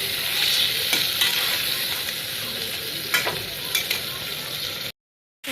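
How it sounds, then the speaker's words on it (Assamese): Chicken pieces with spices stir-fried in a hot pan, continuous sizzling with repeated scraping stirs of a spatula, close and fairly loud, ending in a brief silence. "এইখিনি ভালকৈ লৰাই লৰাই ভুনি ল'ম।"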